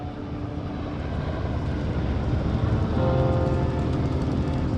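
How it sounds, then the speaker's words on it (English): A helicopter in the video game Firewatch drones steadily overhead, a continuous whirring engine roar holding at a constant level for several seconds with no voices. "There's the helicopter."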